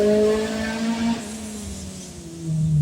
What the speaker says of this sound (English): seen cars making lots of noise